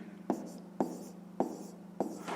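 Pen or pencil strokes mark out a fraction on paper during a fifth-grade math exercise, four sharp scratchy taps spaced at even intervals, each followed by a short soft scrape, close up and quiet.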